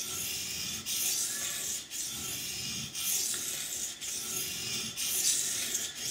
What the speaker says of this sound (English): I'm just going to keep working this one side of the knife until I have a burr